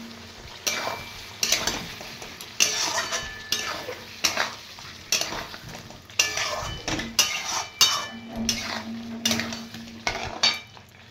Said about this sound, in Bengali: এদিকে মশলাটা অনেকটা কষা হয়ে এসছে